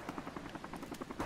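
A helicopter in Modern Warfare Remastered thrums with a steady rhythmic rotor chop, moderately loud and continuous, alone without talk.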